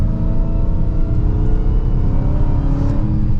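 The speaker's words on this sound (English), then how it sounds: "You got that supercharger whine, that rumble from the Hemi." A Dodge Charger SRT Hellcat Widebody's Hemi V8 rumbles deep and steady under a supercharger whine, loud and close from inside the car while driving, with no voices.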